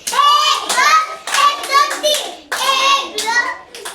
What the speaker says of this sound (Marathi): टाळ्या वाजवायच्या सगळ्यांनी